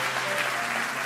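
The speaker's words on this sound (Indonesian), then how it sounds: "Kasih tepuk tangan tuh semuanya." Brief, lively applause from a church congregation in Kupang, East Nusa Tenggara, a dense, continuous patter of many hands clapping together at a moderate distance.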